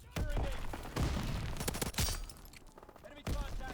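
Short bursts of tapped gunfire from a rifle in Call of Duty: WWII, several loud separated volleys with brief gaps between them, no talk over them.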